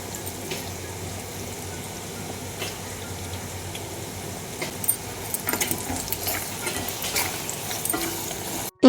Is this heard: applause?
no